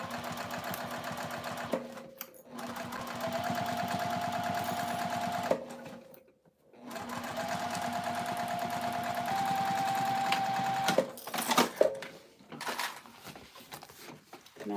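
A domestic sewing machine stitches through foam in a seam, running loud and steady in two long bursts with a brief stop between them, then giving way to a few scattered clicks and handling noises.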